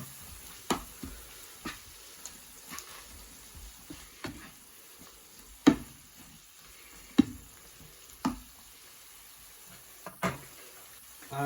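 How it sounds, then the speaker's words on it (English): Chopped tomatoes stirred in a sizzling pan for a stuffed pasta sauce: a steady soft sizzle with a spoon scraping and tapping against the pan every second or so, close and moderately quiet, with no talking. "And then we are going to add in the chopped tomatoes. First I'll give that a stir."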